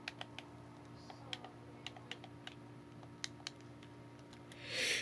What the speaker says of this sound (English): So I'm here clicking on my PlayStation right now